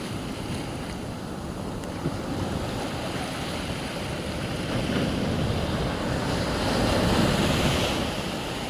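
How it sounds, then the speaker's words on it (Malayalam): Sea waves rolling in at Puthuvypin beach make a steady low wash and rumble, swelling louder toward the end, with gusty wind buffeting the microphone throughout. "ഞാനിപ്പോൾ ഉള്ളത് പുതുവൈപ്പിൻ ബീച്ചിലാണ്, അതായത് കടലിൻ്റെ കരയിലാണ് ഉള്ളത്"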